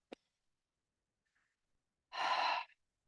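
One long, soft exhale through the mouth during qigong breathing, a breathy half-second whoosh heard alone after a faint click and near silence.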